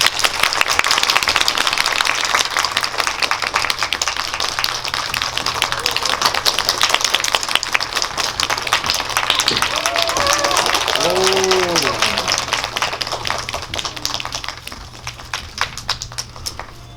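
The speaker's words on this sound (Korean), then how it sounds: "큰 박수로 맞이해 주세요." Audience applause welcoming the director and actors of the film 'Kingmaker' at a Korean cinema GV event, steady dense clapping filling the room, with a brief musical tone and voices surfacing near the end.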